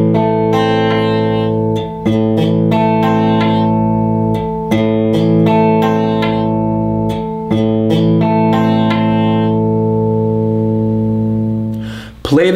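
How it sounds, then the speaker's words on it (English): Electric guitar chord arpeggiated from the lowest string upward, each note picked and cut short instead of left ringing, in a steady pattern repeated several times with brief pauses between passes, loud and close. "If you don't allow the notes to ring,"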